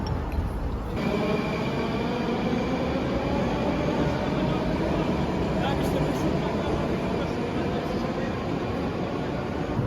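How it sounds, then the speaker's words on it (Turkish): A Moscow Metro train rumbles steadily throughout, a dense continuous roar with faint talking mixed underneath. "Buradan tekrar metroya biniyoruz."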